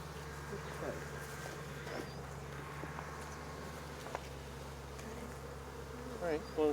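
A dense, steady drone of many bees buzzing continuously at close range, with faint rustling and a brief louder burst near the end.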